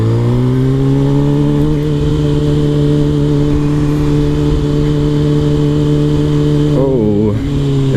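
A Suzuki GSX-R motorcycle with a swapped engine is ridden, its engine droning loud and steady throughout, then briefly dipping and shifting pitch near the end.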